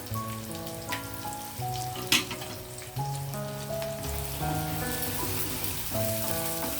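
Onions and ginger-garlic paste frying in oil in a pan, a steady low sizzle running throughout under prominent background music, with a brief clatter near the middle.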